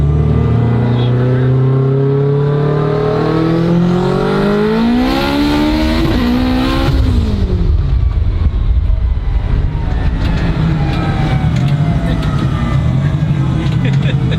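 A turbocharged Honda Civic engine accelerating through the gears from inside the cabin, revving steadily higher, dropping on a shift, then pulling again under loud road and wind noise while people talk excitedly over it.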